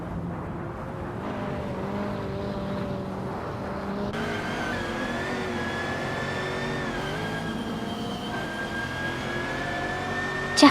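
Racing car engines in a racing video game, a steady high whine of several motors that shifts pitch as they accelerate and change gear, continuous and fairly loud, with a sharp click at the very end.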